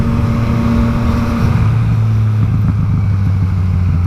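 A motorcycle engine revs hard and loud as the rider pulls a clumsy wheelie, its tone dropping and shifting as the throttle changes, with steady traffic rumble behind it.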